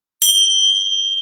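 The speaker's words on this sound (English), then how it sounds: "the bell." A small bell is struck once to open a yoga session, a bright, loud, clear ding ringing on with a sustained, slowly fading tone and no other sound.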